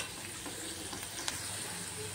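Asafoetida and salt sautéing in a hot pan for jhunka: a steady, close sizzle and frying hiss throughout, with faint stirring clicks and one brief sharper tap of a utensil.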